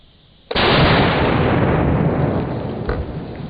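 A rifle shot fired into a block of dry ice outdoors: one sudden, loud blast followed by a dense, roaring rush of noise that holds for several seconds and only slowly eases off.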